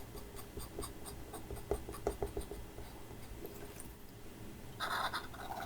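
Colored pencil scratches over black paper while feather barbs are drawn in a Halloween doodle, giving close, quiet, rhythmic scraping strokes with small taps between them.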